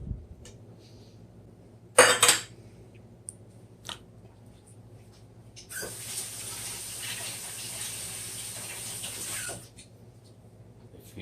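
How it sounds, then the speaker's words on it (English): Clams rattle against a metal sink, then a faucet runs steadily for several seconds as they are rinsed, close and fairly quiet with no one talking. "we're going to rinse out these clams"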